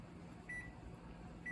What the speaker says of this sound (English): And I'm going to start my timer.